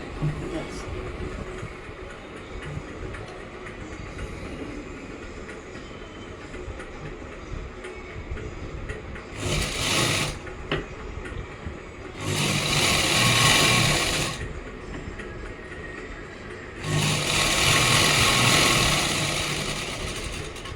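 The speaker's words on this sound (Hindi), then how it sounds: "ऐसे ही अब इसको सिल देंगे।" A sewing machine stitches a salwar in short bursts, three separate runs of rapid mechanical whirring that rise and stop between quieter stretches of room noise.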